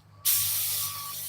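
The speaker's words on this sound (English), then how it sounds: "I'm spraying all this shit, and it ain't never gonna be seen" An aerosol can of adhesive sprays onto the seat of a Studebaker truck under restoration, a sudden close hiss that holds steady and then eases off slightly.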